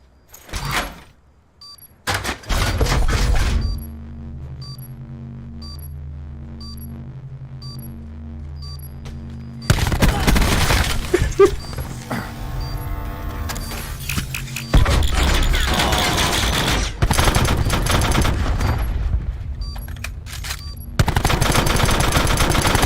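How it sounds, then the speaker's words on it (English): Video game gunfire comes in loud, dense bursts with booming grenade launcher blasts among them, broken by a stretch of quieter game tones before the shooting resumes. "they have grenade launchers now"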